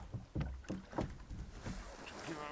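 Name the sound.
rowing a traditional beach boat with oars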